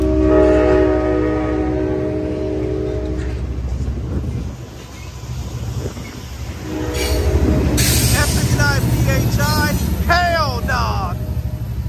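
Amtrak San Joaquin train #718 pulling out of Oakland Jack London Square station, with a loud horn blast, rolling wheels, and squealing wheel screeches building near the end.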